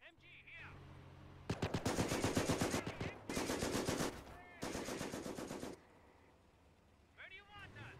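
Bursts of MG 42 machine gun fire from a Company of Heroes battle on the Seine River docks. There are three long, loud rapid-fire bursts with short gaps between them, and distant gunfire and game sounds in the background.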